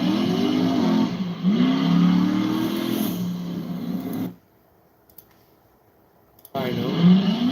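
A car engine, the BarelyCuda, revs hard on a street dyno with loud rising and falling sweeps, cuts off to near silence for about two seconds, then roars back up.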